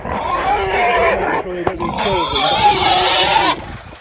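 Several pigs grunting and squealing close by in a sheep pen, a noisy, busy mix, with a person speaking over parts of it.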